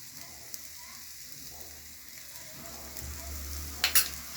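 Butter is spread with a dosa ladle across a sizzling dosa on the pan, giving a soft, steady frying hiss with a couple of brief scraping clicks near the end.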